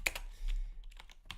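Quick bursts of typing on a computer keyboard while coding a web app, a few close clicky keystrokes in short clusters with a pause between.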